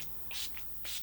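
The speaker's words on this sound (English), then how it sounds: "So I'm just going to go ahead and give myself a little spritz here." Two quick spritzes of Urban Decay All Nighter Honey setting spray: short, soft hissing puffs close to the mic, a brief pause between them, in an otherwise quiet room.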